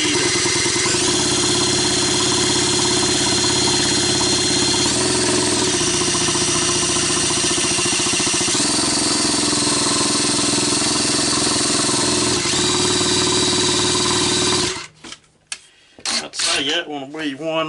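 A ported Stihl MS390 chainsaw with a 49mm cylinder, lined bore and coated piston runs at a slow, steady idle, loud and close with an even throb. It then cuts out, and a voice follows briefly.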